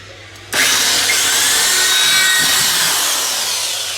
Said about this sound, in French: Anthony va passer à... comment dire, il va faire des trous